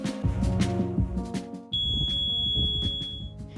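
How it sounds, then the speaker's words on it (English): Partway through, a door alarm triggered by a door held open kicks in with a steady, piercing high-pitched tone that holds for over a second above the background noise. "We also have to hold open the doors to make sure that the alarms are working"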